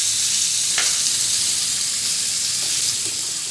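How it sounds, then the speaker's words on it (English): Chicken laid into a hot oiled pan gives off a loud, steady sizzle, close and unbroken, with a faint clink near the start. "I'm gonna take the chicken and transfer it to the pan"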